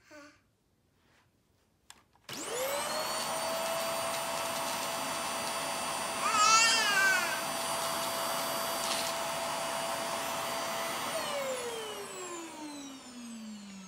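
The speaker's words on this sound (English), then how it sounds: "It's a vacuum." A household vacuum cleaner switches on after a click and runs as a steady loud whine for about ten seconds, then winds down with a falling pitch as it powers off.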